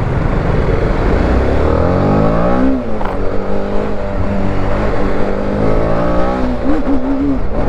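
A TVS Apache RR310 motorcycle being ridden with its gears sticking, the engine droning loud and close with rising and falling revs and a wind-buffeted rumble throughout.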